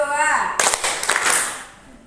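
Trainees in a workshop clap together on a called count, a sudden burst of group claps breaking in after a spoken voice, then fading into room murmur.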